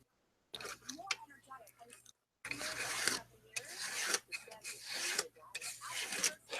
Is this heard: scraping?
yes